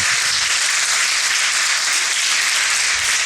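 A church congregation claps loudly and continuously in praise during a worship service, a dense sustained wash of many hands with no pauses and no speech.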